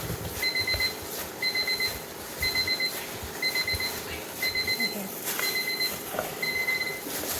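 A kitchen timer alarm goes off while bread dough is being made, sounding as a steady series of seven evenly spaced electronic beeping bursts at moderate volume. A faint brief voice is heard, and there is low background noise underneath.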